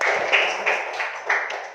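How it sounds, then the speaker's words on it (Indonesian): A classroom of pupils claps for a classmate, a short burst of light, scattered hand clapping with a few brief swells, close and without talk. "Oke, tepuk tangan lagi untuk Tiwi"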